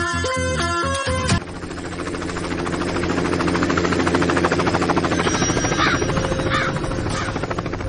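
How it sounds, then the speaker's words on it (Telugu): Helicopter flying over a village in a Telugu action film, its rotor chopping in a loud, steady, pulsing drone after a brief burst of other sound at the start, with a crow cawing faintly in the background. "మన ఊర్లో హెలికాప్టర్ ఏట్రా?"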